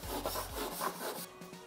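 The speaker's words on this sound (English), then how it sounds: "Get yourself a little wire brush and just go along all the edges" Steady, scratchy scrubbing strokes of a wire brush rasp back and forth along the grooved edges of timber decking boards, close up and continuous.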